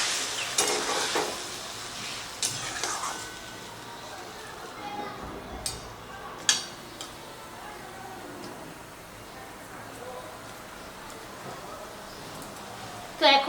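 A little water hits okra and spice masala frying in a pan, bursting into a sharp sizzle that fades to a quieter simmering hiss with a few utensil clicks, while someone talks softly.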